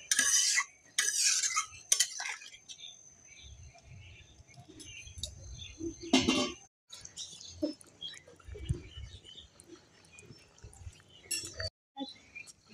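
Pieces of rohu fish go into a pan of curry water with cauliflower and new potatoes, giving soft splashes and metal-on-metal clinks of a spatula, with scattered stirring scrapes and brief quiet gaps.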